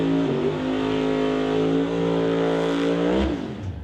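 A gasser drag race car howls through its run at a West Coast outlaw drag event, a loud sustained engine roar holding steady and climbing before cutting off abruptly near the end.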